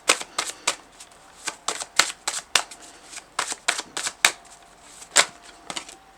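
A shuffled deck of cards is handled close up, with sharp snapping flicks arriving in uneven clusters as three cards are drawn, with no talking.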